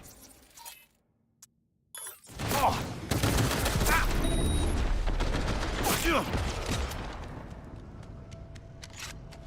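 Rapid automatic gunfire from a weapon in Cyberpunk 2077, a loud dense burst of shots that sustains for several seconds after a brief quiet start, with metallic clinks and game effects layered in.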